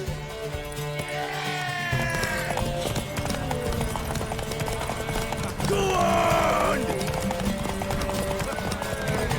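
Hoofbeats clip-clop steadily during a horse race in The Witcher 3: Wild Hunt, under continuous music and scattered voices, with a horse neighing partway through. The overall mix is busy and loud.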